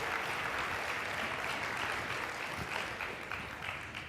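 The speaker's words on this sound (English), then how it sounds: "Can you give him a round of applause, please?" An audience at a sales conference in Anaheim claps steadily for about four seconds, a dense, even wash of applause that fades slightly toward the end.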